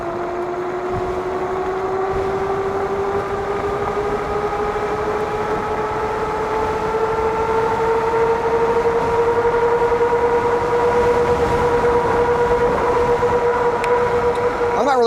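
PostJoy GT50 electric bike speeding downhill, with a loud continuous motor whine rising steadily in pitch over strong rushing wind noise, sustained for the whole stretch.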